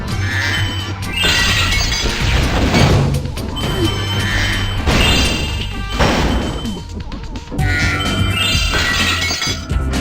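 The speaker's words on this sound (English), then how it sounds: "there's another one over there which we're going to need to destroy with a missile" An object smashes apart under a missile hit in the video game Spyro: Year of the Dragon, loud shattering and crashing bursts repeating across the stretch over a continuous game soundtrack.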